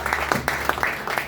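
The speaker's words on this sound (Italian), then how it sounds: "Facciamo un applauso" An audience at a commemoration ceremony in Verona breaks into applause, with a scattered handful of fairly faint, sparse claps.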